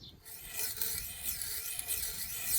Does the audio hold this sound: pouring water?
no